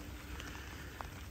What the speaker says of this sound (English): I don't want to keep this phone out too long in this rain.